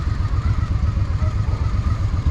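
A Honda Shadow VT750 motorcycle engine idles with a steady low pulsing throb, loud and close, over a wash of wind on a city ride.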